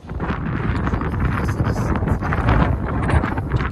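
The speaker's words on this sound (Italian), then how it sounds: "C'è un po' di vento" Wind blows steadily and roughly across an outdoor microphone, a dense, continuous rumble and buffeting roar with small gust swells and no pauses across the few seconds.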